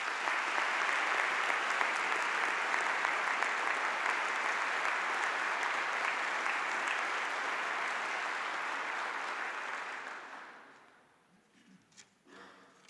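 A large audience at a university presidential investiture claps steadily in a dense, sustained wave of applause, which fades out near the end, leaving scattered faint sounds.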